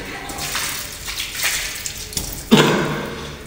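Water gushes and splashes from a burst bladder inside a pressure tank of a building's water pump system, a steady close rushing flow with a sharper surge near the end.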